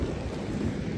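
Steady rain pours down outdoors on the Washington coast, a dense, even wash of noise with a low rumbling undertone and no voices.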